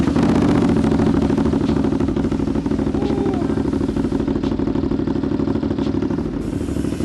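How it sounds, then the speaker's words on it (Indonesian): A 2022 Ducati Monster with an L-Twin engine and aftermarket exhaust idles loud and close, a steady rough, throbbing rumble that holds level throughout. "Masih ada khas suara dari L-Twin Monster yang sebelumnya sih. Maksudnya khas suara motor Ducati."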